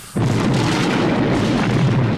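Film explosion effect from the 1982 horror movie The Thing: a sustained, loud, deep rumbling blast with crackling bursts that roars steadily for about two seconds before cutting off, with no talk over it.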